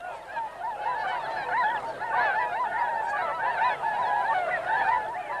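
A large flock of swans at the Welney wetland reserve calls continuously, a dense overlapping chorus of honking, bugling notes, moderately loud and steady, with no voices.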